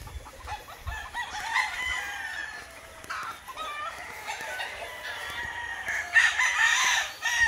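Chickens and roosters in a brooding area with young chicks, a rooster crowing and hens clucking, with high chick peeps scattered throughout, close and moderately loud with no talk.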